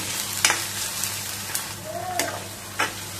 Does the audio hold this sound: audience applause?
no